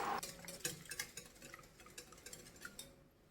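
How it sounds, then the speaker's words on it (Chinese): A balloon whisk beating thick yogurt into an oil, salt and vanilla batter for a yogurt chiffon cake, with rapid light clicks and taps against a bowl, close but quiet, fading out at the end. "继续搅拌混合均匀"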